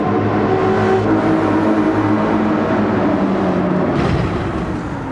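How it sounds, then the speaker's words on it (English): A turbocharged Spec III race car in Gran Turismo 7 roars loudly and continuously, its engine note holding steady and shifting slightly in pitch before easing off near the end, with no voices. "Turbos are nice and loud, as you'd expect."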